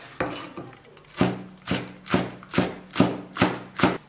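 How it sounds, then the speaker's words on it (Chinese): Knife chopping spring onions on a cutting board, about eight loud, close, evenly spaced chops at a steady rhythm, with no talking. "接下来再来切一些葱花。"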